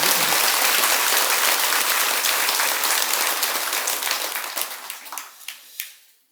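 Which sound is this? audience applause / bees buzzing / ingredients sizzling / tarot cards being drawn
audience applause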